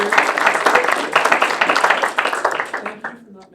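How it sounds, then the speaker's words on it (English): A crowd at a livestreamed meeting breaks into a round of applause, dense clapping that holds steady and then thins out and fades near the end. "let's give a round of applause for yourself"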